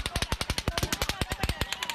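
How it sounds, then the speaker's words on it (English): Automatic gunfire at the Route 91 Harvest Music Festival concert shooting in Las Vegas rings out as one rapid, even burst of roughly twenty shots in two seconds, sharp and echoing. "blasts of automatic gunfire ringing out towards the end of a concert at the Route 91 Harvest Music Festival"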